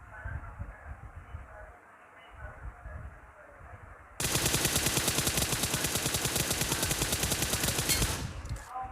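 Rapid automatic gunfire from the mobile battle royale game BGMI rattles in a long sustained burst of evenly spaced shots, loud and close, following several seconds of quieter in-game ambience.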